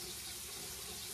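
Warm water runs steadily from a bathroom sink tap, a constant close hiss and splash with no pauses.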